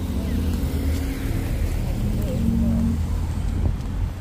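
Steady road traffic rumbles outside an office building, with cars passing in a continuous low drone and occasional engine swells, while voices talk in the background throughout.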